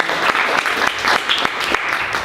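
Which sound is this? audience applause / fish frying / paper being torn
audience applause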